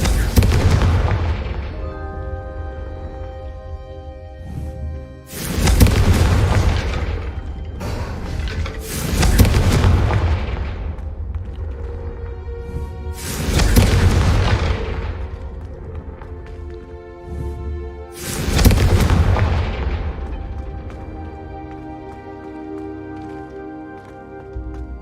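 Confringo fire spells in Hogwarts Legacy burst in four or five loud booming explosions spaced a few seconds apart, each with a rumbling decay, over continuous game background sound.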